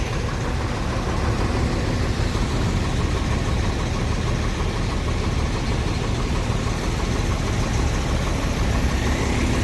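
A bus engine idles steadily nearby, a constant low rumbling drone with no talking.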